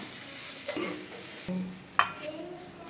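Soft sizzling of onions and chillies frying in a yogurt-dish tempering with occasional stirring scrapes and a sharper clink; low and steady throughout.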